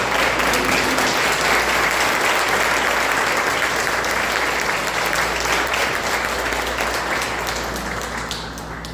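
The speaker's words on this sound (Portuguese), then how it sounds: "dê uma aplauso ao Senhor" A church congregation standing to applaud in a Portuguese-language service gives sustained, loud, dense clapping that fills the room and tapers slightly at the end.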